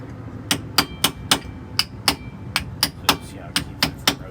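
Steel hammer strikes a chisel held against a GM 4106 bus wheel, about a dozen sharp metallic blows in steady rhythm, close and loud, with a low workshop hum beneath.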